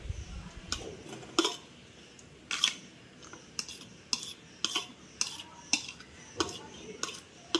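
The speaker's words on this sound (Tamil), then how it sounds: "நம்ம சிக்கனை வந்து இதில் ட்ரான்ஸ்ஃபர் பண்ணிக்கிறோம்" Raw chicken being moved into a bowl of ground spice paste, with a series of clinking utensil taps against the bowl and soft wet shuffling at a fairly steady rhythm, close and moderately quiet.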